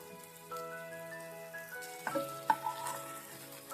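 Chicken pieces roast on a hot tawa over high flame, with a steady close sizzle and a few sharper spits and crackles near the middle. Scrapes of turning sit under a faint background tone.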